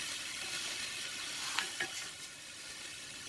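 Zucchini and bacon sizzle in a frying pan with added oil, a steady soft crackling hiss with a few brief pops and stirring scrapes, fairly quiet and with no voices.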